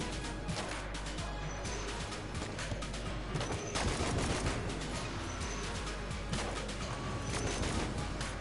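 Strafe gun firing in the game Enter the Gungeon: a constant, dense clatter of rapid shots mixed with crashing impacts, steady and busy throughout, at moderate volume with no speech.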